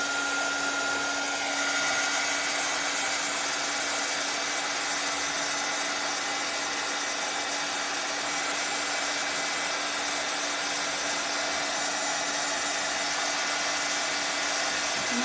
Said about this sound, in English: I'm gonna hit this with the dryer because we're almost to the end.